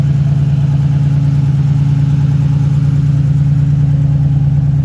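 A 1987 Buick Grand National Turbo T engine runs steadily at a low, even idle-like drone, loud and close with a constant rumble and no talking.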